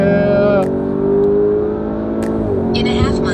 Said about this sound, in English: You gotta get in there and rev it. Rev it, rev it.